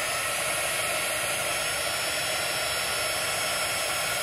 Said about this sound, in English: we're going to turn on our heat gun